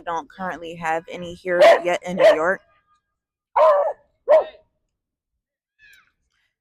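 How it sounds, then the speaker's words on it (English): A dog barks several times in sharp bursts, the first few overlapping a person talking, then two more barks alone after a pause. "Excuse my loud dog if you hear him in the background."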